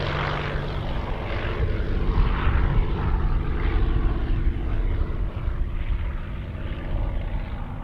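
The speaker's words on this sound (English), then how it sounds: "Multiple fast aileron rolls." An aerobatic propeller aircraft flying multiple fast aileron rolls at the Sun 'n Fun air show, a loud, sustained engine drone whose pitch rises and falls as it maneuvers, with no voices.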